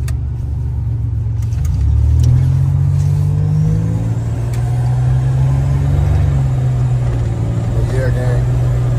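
A six-cylinder turbocharged car engine runs steadily close by in cold weather, a continuous low drone that rises briefly in pitch and then settles, with a voice talking over it.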